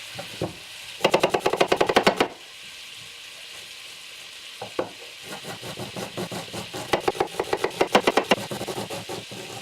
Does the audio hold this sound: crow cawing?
no